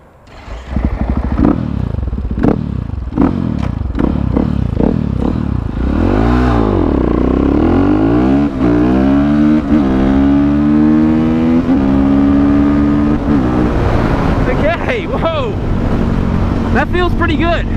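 KTM 450EXC dirt bike engine revving and accelerating up through the gears, loud and close with rising and falling pitch sweeps, a helmet-mounted mic picking up wind and clatter throughout.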